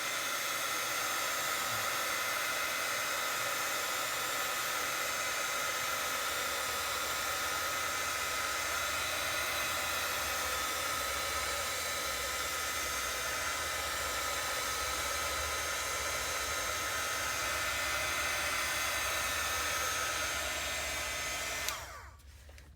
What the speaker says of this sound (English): I didn't mean to blast the heat tool without warning y'all